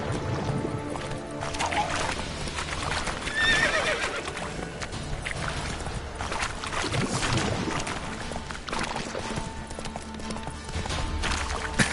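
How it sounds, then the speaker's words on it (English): Roach the horse gallops and neighs in The Witcher 3, with steady hoofbeats under a dense, continuous wash of game sound and a whinny rising through the mix. "Run, Roach."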